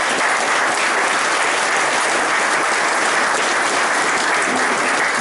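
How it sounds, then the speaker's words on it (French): Loud, dense applause from a crowd at a public gathering in Cayenne, French Guiana, a continuous roar of clapping that stays even and close throughout with no pauses. "des gens comme Elie Stevenson, que je vous demande d'applaudir s'il vous plaît."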